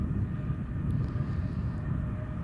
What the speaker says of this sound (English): Next touchdown, EasyJet from Munich, flight 22198.